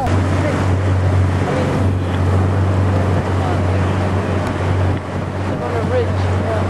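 A Zodiac inflatable boat motor drones steadily in Antarctica with wind buffeting and water splashing, a low engine hum running throughout, with voices faintly present.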